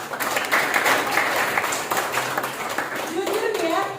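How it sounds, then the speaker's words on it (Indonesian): A group claps steadily for several seconds, mixed with chatter and a voice speaking over the end. "Tepuk tangan dong."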